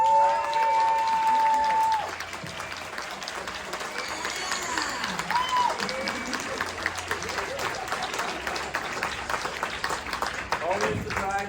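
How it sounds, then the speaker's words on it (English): A crowd at a Hellraiser convention panel claps and cheers to welcome a late-arriving cast member, broad sustained applause in a large room with talk mixed in. "I know we already did applause, but we got another cast member. Can we do it again?"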